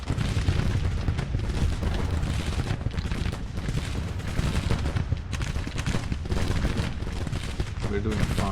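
Needle gun fire during a large northern battle in Grand Tactician: The Civil War, a continuous loud barrage of crackling volleys and booms with no pauses throughout.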